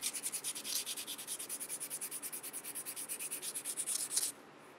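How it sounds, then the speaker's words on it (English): Sandpaper rubbing back and forth on a handmade maple and walnut wooden knife, a steady rhythmic run of close, bright scratchy strokes that stops abruptly near the end. "Between grits, I spray it down with some water to raise the grain, let it dry, and sand it back down."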